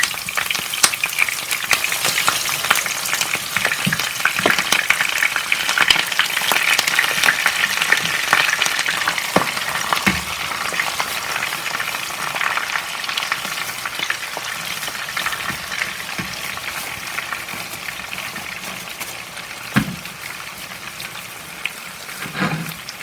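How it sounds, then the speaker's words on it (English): Almond-coated, bacon-stuffed turkey pieces fry in a pan with a dense, close crackling sizzle, occasional sharper pops and clinks of turning, easing slightly in loudness toward the end. "So I'm going to lightly fry this"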